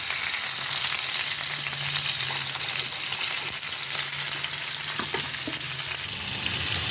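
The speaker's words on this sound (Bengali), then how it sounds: "মাছগুলো আমি উল্টে পাল্টে হালকা করে ভেজে নিচ্ছি।" Stingray fish pieces frying in oil as they are turned over, a dense, continuous close sizzle with light stirring scrapes and a faint low hum beneath.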